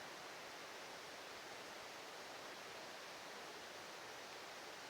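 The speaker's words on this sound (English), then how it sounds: "I love hearing the creek" A creek runs steadily through an old growth forest, producing a continuous broadband rush of water at low level with no voices.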